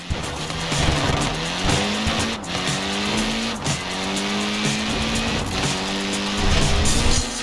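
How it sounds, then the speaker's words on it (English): A Mini's tyres squeal and screech in Forza Horizon 4, wavering tonal wails layered over a steady engine drone, repeating in sustained bursts across the whole stretch with no talking. "Look at that, laying down some rubber there."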